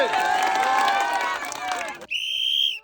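At a village game, an outdoor audience claps and cheers loudly for the last contestant. A dense burst of applause and crowd noise ends abruptly, followed by a shrill whistle and some voices.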